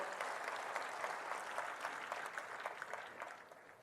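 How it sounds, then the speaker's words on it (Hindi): An audience at a political event in India gives a guest a dense round of applause, steady throughout and fading slightly at the end, with no voices over it. "जोरदार तालियां बजा करके इनका स्वागत करिए।"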